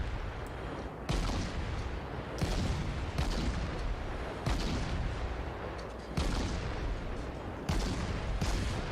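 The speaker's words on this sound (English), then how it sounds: "keep firing on this enemy ship" Russian cruiser main guns fire in naval battle gameplay of World of Warships, with about half a dozen loud booming salvos spaced a second or two apart over a rumbling background.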